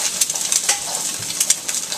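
An egg cooks in smoking-hot peanut oil in a non-stick pan, giving a steady close sizzle with light scraping and clinks as it is stirred.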